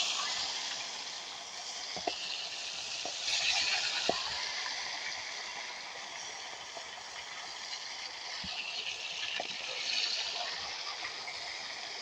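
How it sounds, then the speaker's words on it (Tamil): Fish pieces fry in hot oil for a Sri Lankan fish curry. A steady, soft hiss of bubbling oil continues throughout, with occasional light clinks and knocks from the pan and no talk. "நாங்கள் மீன் துண்டுகளை போட்டு பொறிச்செடுக்க போகிறோம்"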